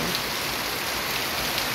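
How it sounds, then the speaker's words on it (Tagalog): Heavy rain pouring steadily, a dense continuous hiss of drops hitting surfaces close by, with no voices. "Ngayon sobrang lakas na naman po ng ulan guys."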